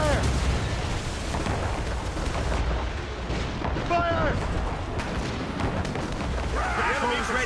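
Ship cannons firing in a naval battle in the video game Assassin's Creed Rogue, with repeated loud booms over a dense battle din, while voices shout orders throughout.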